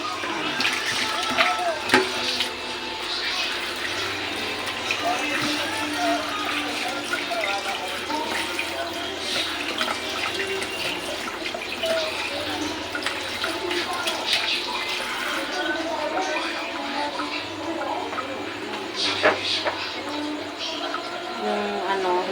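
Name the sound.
vegetables (yardlong beans, eggplant) soaking in water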